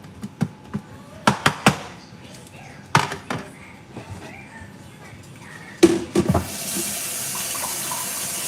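Water runs from a kitchen tap into a pan holding leftover steak gravy, a steady hiss that swells near the end after a few clinks and knocks of cookware.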